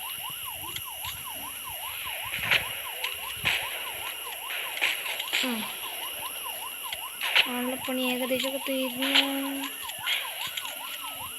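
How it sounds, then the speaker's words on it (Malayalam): Police car siren in the Rope Hero video game wails in a steady rising and falling cycle under someone talking, with other game effects and thuds mixed in. "വേറെ ഏതോ പോലീസ് വണ്ടി വന്നിട്ടുണ്ട്."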